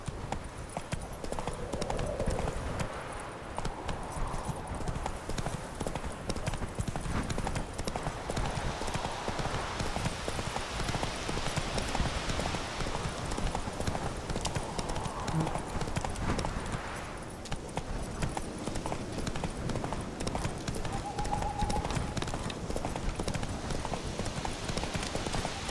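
Hooves of a horse in The Witcher 3 video game beat a steady clip-clop at a galloping pace throughout, close and continuous, over a constant ambient bed with no talking.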